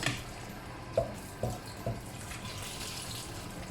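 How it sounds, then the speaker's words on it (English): Cooked rice noodles for Vietnamese beef pho poured into a colander, a few soft splashy thumps followed by steady draining water, close and moderately quiet with no talking. "So pour this into the colander."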